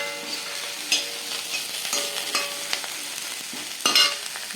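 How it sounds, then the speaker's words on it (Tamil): Cabbage sautés in a pan with chili powder, a low steady sizzle broken by several sharp scraping stirs, the strongest just before the end, heard close with no speech. "இப்போ நம்மளுடைய முட்டைக்கோசு வதங்கிடுதான்னு பார்ப்போம்"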